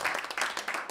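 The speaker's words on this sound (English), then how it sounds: "Let's give her a round of applause for that." Audience at a folk festival memorial tribute in Anchorage clapping in a brief burst, a short patter of applause from a crowd, moderately faint.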